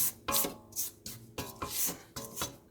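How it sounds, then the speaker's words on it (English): A spatula scrapes around a mixing bowl of strawberry cake batter in repeated rhythmic strokes, each a soft close rasping swipe, roughly every third of a second, with no voices. "Go ahead and scrape our bowl. Scrape our bowl down."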